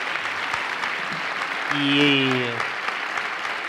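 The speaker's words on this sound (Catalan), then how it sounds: "Demano un aplaudiment pel Jean-Marc." Applause for Jean-Marc at an anniversary memorial gathering, steady clapping from a crowd with a brief voice rising over it midway.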